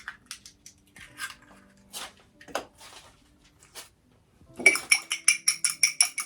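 An egg stirred into batter in a bowl for a peaches and cream cobbler, first soft scattered wet squishes, then a quick run of bright, regular clinks of a utensil against the bowl, close and clear.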